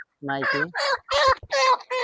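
A broiler hen clucks and squawks in a series of five short, harsh bursts, close by, with brief gaps between them.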